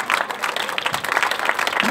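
Church congregation clapping at a Friday evening prophetic service, a steady dense patter of many hands filling the room with no break.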